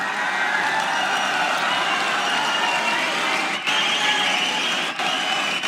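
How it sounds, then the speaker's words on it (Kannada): A crowd at a Congress party rally applauds steadily to welcome two guests, dense sustained clapping that fills the whole stretch without letting up. "ನೀವೆಲ್ಲ ಎದ್ದು ನಿಂತು ಚಪ್ಪಾಳೆ ಹೊಡೆದು ಸ್ವಾಗತ ಮಾಡಬೇಕು"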